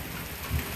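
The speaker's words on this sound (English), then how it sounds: "Like, look how fine the rain is." Fine misting rain falling beside a front porch, a soft, steady hiss of light rain throughout, faint and even with no voices.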